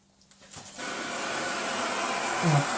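A Thomas steam vacuum cleaner starts up and settles into a loud, steady whirring hiss of motor and released steam, with a soft burble near the end.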